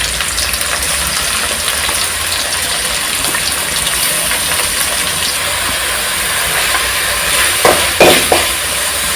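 Ginger garlic paste fries in a hot pan, giving a steady, loud sizzling hiss throughout with a few brief sharper crackles near the end.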